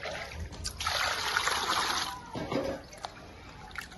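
Water drains off soaked moong dal through a strainer, a splashing trickle that swells for a couple of seconds, eases, then returns briefly before fading to faint drips.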